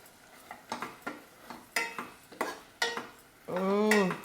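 Chapati pieces are stirred in a pan, with a spatula scraping and clinking close by in a steady rhythm about twice a second, then a brief voice.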